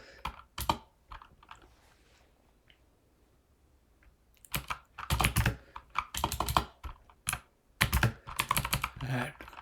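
Someone types code on a computer keyboard, a few scattered keystrokes at first, then dense bursts of rapid clicking, close and fairly quiet.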